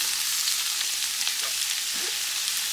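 Chopped onions and scallions sauté in hot olive oil, giving a steady, close, bright sizzle with faint stirring scrapes and no talking.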